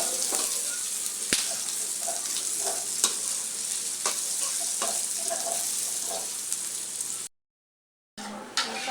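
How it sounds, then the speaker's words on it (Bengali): Onions frying in a hot pan with a steady sizzle and intermittent scraping clinks as they are stirred, close and continuous, ending in a brief silent gap. "এখন ভালো করে পেঁয়াজগুলো ভেজে নিতেছি,"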